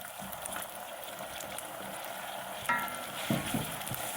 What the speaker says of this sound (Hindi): और अब हम इसमें डाल देंगे टमाटर